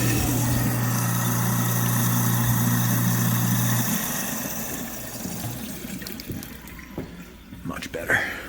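A kitchen garbage disposal runs freely after being unjammed, a loud steady motor hum with water rushing, then the motor cuts off about halfway and water and faint clatter trail on more quietly.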